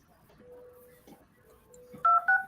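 Telephone number dialed on a keypad, with a few short, clear DTMF beeps near the end following faint tonal hums and soft background noise.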